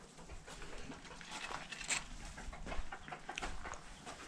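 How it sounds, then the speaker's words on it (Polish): Hen clucking a few times after laying an egg, amid a busy, noisy yard, the calls fairly faint against steady background rustle. "Kura woła na jajko."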